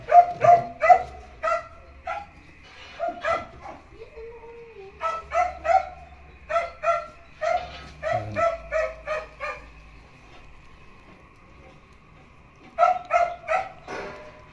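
Pet dogs bark in short bursts and clusters, then whimper and whine in between, loud and close with brief quiet gaps.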